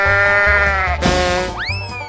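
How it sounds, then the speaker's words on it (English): A sheep gives a loud, wavering bleat up close, followed by a bright rising whoosh effect over background music in a children's animal game. "Sheep."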